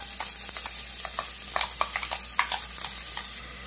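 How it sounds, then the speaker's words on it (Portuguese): Chopped onion and garlic fry in a hot pan, a steady sizzle with crackling pops and occasional stirring scrapes and no voices. "Agora eu vou acrescentar uma cebola pequena e um dente de alho picadinho"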